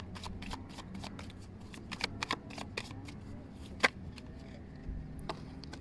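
Tarot cards shuffled by hand in a quiet room, a run of crisp riffling flicks and soft slaps in an uneven rhythm, fairly close and moderately loud with no talking.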